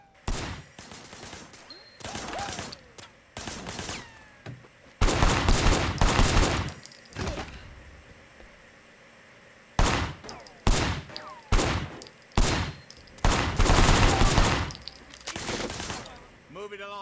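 Bursts of gunfire from a car's passenger window in the video game Sleeping Dogs, loud clustered volleys separated by short pauses, with game engine and ambience underneath.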